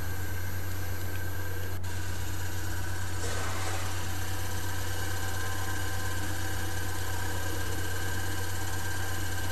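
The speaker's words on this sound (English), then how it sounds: "The DC shunt motor is now running at a speed of around 1400 RPM." A solar-powered DC shunt motor, fed through a boost converter, runs at about 1400 RPM with a constant whirring hum and a steady mechanical buzz, unchanging throughout and heard alone.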